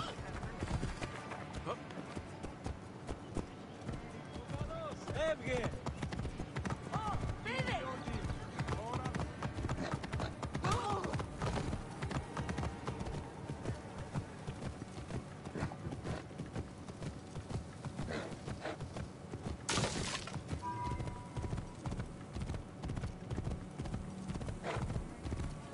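Horse hooves clip-clop steadily in Assassin's Creed Origins, a continuous close rhythm of hoofbeats with occasional whinnies, joined by game voices and someone talking.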